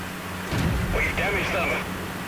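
A tank video game with a British Cromwell: one cannon shot booms early on and is followed by ringing reload and battlefield sounds, with a voice talking over part of it.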